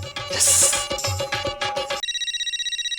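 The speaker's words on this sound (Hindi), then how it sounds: "पोपट अंकल का फोन है" An electronic phone ringtone kicks in after a busy stretch of music, pulsing in a steady, bright repeating pattern.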